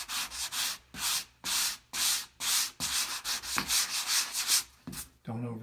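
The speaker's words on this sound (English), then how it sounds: "it's going to sand it nice and easy. Don't go crazy, just around the edges." Drywall joint compound being hand-sanded around the edges of a wall patch: steady repeated abrasive strokes in an even back-and-forth rhythm, close and clear, with no talking.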